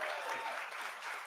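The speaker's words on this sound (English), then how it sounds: "give Claudine another round of applause." Brief burst of dense clapping from an indoor audience, steady and fairly close, lasting just over a second.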